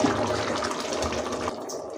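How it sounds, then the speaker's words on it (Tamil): Rice and water boil vigorously in a pot for bachelor-style veg pulao, a loud, dense, continuous bubbling and rushing that thins slightly near the end, with no talking. "ஸோ ஸோ ரைஸும் தண்ணியும் நல்லா கொதிச்சுக்கிட்டு இருக்கு."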